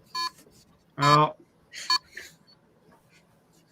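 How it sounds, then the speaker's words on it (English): Short bursts of electronic beeping, a few distinct tonal bleeps scattered among breathy sounds and a brief spoken exclamation, close and fairly loud against a quiet background. "beeping that makes me want to punch the screen?"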